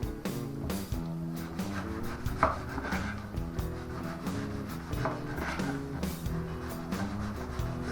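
A knife slicing a baguette into rounds onto a plate, with repeated close sawing and chopping strokes in a steady rhythm and occasional scrapes, no speech.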